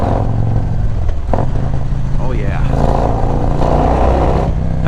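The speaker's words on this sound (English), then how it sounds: "I'm going to let you hear the sound of this awesome exhaust" A deep, rumbling Harley-Davidson motorcycle exhaust with a Stage 2 upgrade idles and revs up close, throbbing steadily, with someone briefly speaking over it.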